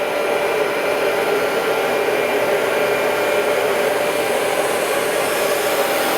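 A Bissell carpet cleaner runs and suctions, a loud, steady, unbroken whine with hissing airflow throughout, heard up close with no talking.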